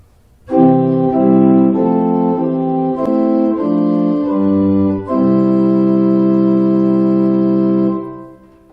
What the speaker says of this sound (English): The first one is called principal or diapason tone,